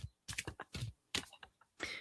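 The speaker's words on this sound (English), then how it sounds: "it's hard for me to hold them up so you can see me shuffling them" A deck of playing cards is shuffled by hand nearby, producing several short, crisp bursts of riffling clicks separated by brief pauses.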